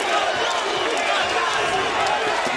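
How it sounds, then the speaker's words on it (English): A loud, dense boxing crowd at a James DeGale vs Lucian Bute fight roars continuously with cheering and shouting, steady throughout with no pauses. "This partisan crowd, loud and proud."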